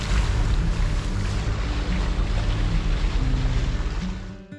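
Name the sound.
sailboat sailing on the ocean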